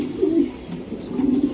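Racing pigeons coo in low, throaty, rolling calls, two close bursts with a brief pause between, fairly loud and without any talking.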